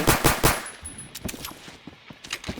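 Rapid bursts of light machine gun fire in a video game, several close, loud volleys in the first half, then scattered sharper single shots and distant gunfire.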